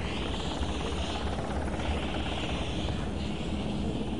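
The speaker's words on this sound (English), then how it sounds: "When the rescue helicopter approaches the raft ready to lift up survivors" A rescue helicopter approaching a life raft roars close by with a steady, loud rotor thump and engine noise throughout, unbroken by any talking.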